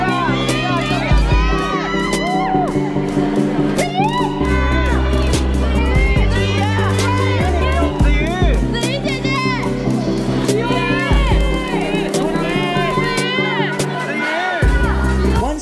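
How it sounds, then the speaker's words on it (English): A dense crowd of fans screams and shouts at an airport as a K-pop idol passes, loud overlapping high-pitched cries and cheers over a busy roar, with voices calling out throughout. "But there was a huge screams for our girls,"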